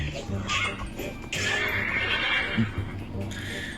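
A nightmare horse in the Ragnarok X game whinnies several times over busy game sounds, close and fairly loud, with a voice talking underneath.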